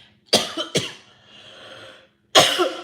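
An adult coughs hard, choking after something went down the wrong pipe during a courtroom trial, with three loud close bursts and a raspy wheeze between them.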